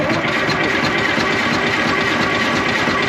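A 6V53 Detroit Diesel in a 1975 International Loadstar 1850 cranks over without coolant, producing a steady, loud, continuous mechanical churning with no break for the full length and no talk over it.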